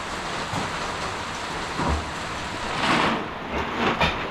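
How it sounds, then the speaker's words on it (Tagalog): Heavy rain pours down steadily as a dense, even hiss, with a few louder surges and low thumps of water striking nearby surfaces; no one speaks. "Grabe ang ulan."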